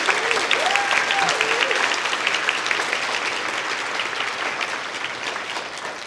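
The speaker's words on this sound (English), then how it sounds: "So can we just do one more round of applause for these folks?" An audience gives panelists a steady, sustained round of applause that stays full and even throughout, with a voice briefly audible early on.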